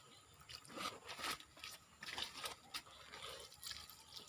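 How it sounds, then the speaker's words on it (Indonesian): Soft splashing and trickling water pours intermittently onto soil and leaves around eggplant plants in a vegetable garden, fairly quiet, with no talking. "kita siram sekeliling."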